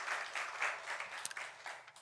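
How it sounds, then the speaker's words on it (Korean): A church congregation applauds during a Sunday service, a soft, distant, continuous patter of many clapping hands lasting about two seconds. "우리 하나님께 다시 한번 영광의 박수를 드리겠습니다"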